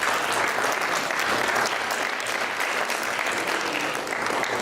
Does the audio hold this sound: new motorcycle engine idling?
no